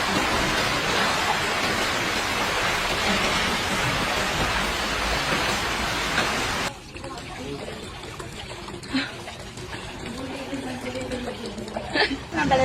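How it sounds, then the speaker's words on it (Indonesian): Heavy rain during flooding in Kerobokan–Canggu, Bali, pouring as a dense steady roar for about six seconds, then stopping abruptly into quieter outdoor ambience with voices talking. "Hujan gede."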